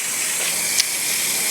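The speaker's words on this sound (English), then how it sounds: "Again, with the really hot water." Hot water from a kitchen tap gushes in a steady, loud hiss while a spatula is rinsed clean of oil, with one brief splash partway through and no talking.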